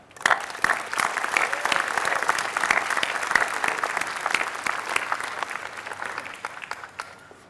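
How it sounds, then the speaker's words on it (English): An audience at a military academy commencement applauds the teachers with steady, dense clapping of many hands, rising quickly and holding for several seconds before tapering off, crisp individual claps standing out near the front. "Let's clap it up for the incredible, incredible teachers at this academy."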